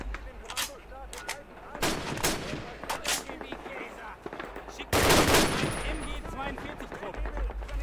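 Gunfire in Call of Duty: United Offensive: sharp rifle and machine-gun shots crack in bursts, with a heavy blast midway, as players talk over the battle.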